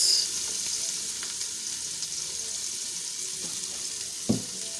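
Chopped onions and salt dropped into a hot pan for a macaroni meat pie, giving a steady close sizzle with a couple of small knocks, the last one louder.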